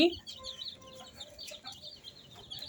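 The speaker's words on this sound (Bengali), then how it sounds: "এগুলো মুরগিরা খেতে পছন্দ করে তাই আমরা দিয়েছি এই যে খাওয়া শুরু করে দিয়েছে" Chickens cluck softly and repeatedly while pecking at feed, a short, fairly faint burst of close-range farmyard clucking.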